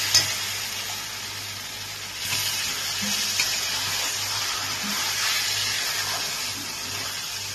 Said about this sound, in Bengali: মশলাটা আমার ভালো করে কষানো হয়ে গেছে। এবার এর মধ্যে আমি জল দিয়ে দিচ্ছি।